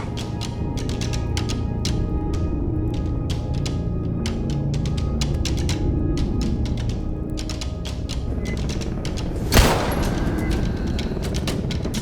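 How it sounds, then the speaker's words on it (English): Rapid repeated gunshots in the video game STALKER GAMMA, a dense string of sharp cracks over a steady noisy backdrop, with one louder single shot standing out near the end. "I took the shot and got the kill"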